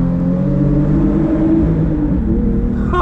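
A Genesis with a 3.8-liter engine cruises on the highway, its engine holding a steady, loud droning hum with road rumble heard from inside the car, alone and without talk.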